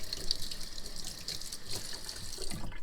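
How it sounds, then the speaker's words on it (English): Tap water runs over hands in a home kitchen while canning beef stew, a soft steady hiss and patter of rinsing water heard alone at low level. "Gonna rinse my hand real fast."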